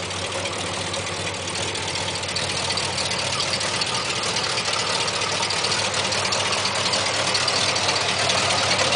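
A 1973 Cadillac Calais rat rod idles with a steady, rumbling engine note that holds an even level throughout, with no talking over it.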